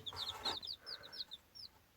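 Newly hatched chicks, one to two days old, peeping in rapid, high-pitched chirps, several overlapping at first and then thinning into scattered calls, fairly quiet.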